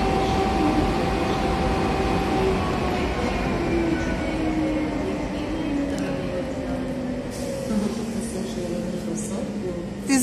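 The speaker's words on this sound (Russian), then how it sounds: "Ты заметил, как присоединился поезд к вагончикам?" Steady low rumble of a train coupling to railway cars nearby, with faint metallic clanks and squeals, continuous and moderately loud.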